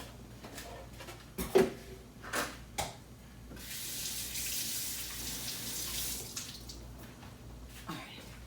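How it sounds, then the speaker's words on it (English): Tap water runs steadily at moderate level for a few seconds while a spoon is rinsed in a kitchen sink during preparation of Haitian-style green pea sauce, framed by a few sharp clinks and knocks before and after. "So I did rinse my spoon off because you do not want the residue."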